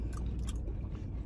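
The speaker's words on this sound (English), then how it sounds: "Nice and crispy. Here's my first bite." Crisp Jollibee food bitten and chewed up close, a quick series of crunchy, squishy chews heard on their own.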